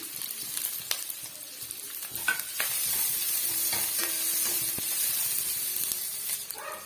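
Curry leaves and coconut pieces sauté in a pan for a mutton curry, with a moderate continuous sizzle, intermittent spatula scrapes and small crackles heard up close.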